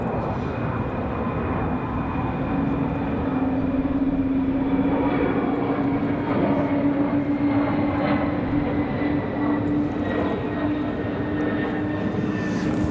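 An airliner departing Raleigh Durham airport at night gives a steady, moderately loud engine roar with a rising whine, sustained throughout and heard alone.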